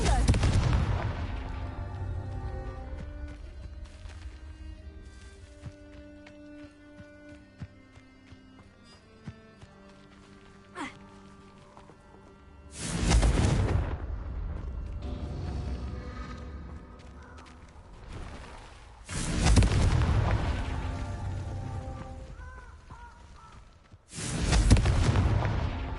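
Confringo blasting spell explosions in the video game Hogwarts Legacy: three heavy booming blasts spaced several seconds apart, each bursting loud and decaying, set between quieter stretches of layered game music and effects.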